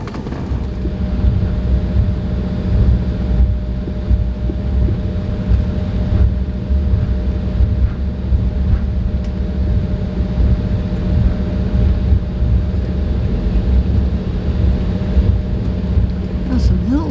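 Seated inside an airplane cabin, a loud, steady low rumble of engines and air handling fills the space with a faint constant hum. Indistinct voices sit under the din.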